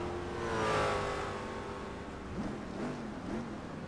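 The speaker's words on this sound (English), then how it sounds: "revving his Vitaphone Corvette, I think it is" A Vitaphone Corvette race car in a racing video game at Laguna Seca revs its engine, a sustained loud engine roar with rising and falling pitch sweeps, heard alone.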